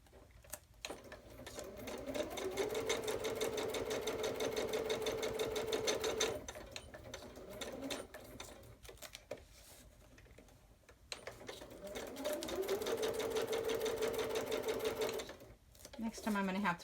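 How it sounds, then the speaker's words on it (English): Sewing machine running a tiny zigzag stitch in two long, steady whirring bursts with a brief pause between, close and clear, with a few short starts and stops and some talk alongside. "All right, let me sew this. I'm going to just put a real tiny zigzag."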